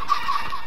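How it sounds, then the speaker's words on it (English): Chickens in the Minecraft video game cluck in a short, loud, nasal call, heard alone without talking. "Dangerous chickens."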